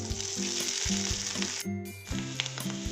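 Bitter gourd dropped into hot oil with crushed ginger, garlic, coconut and coriander, sizzling loudly and continuously up close, with brief stirring scrapes and a moment of quieter crackle midway.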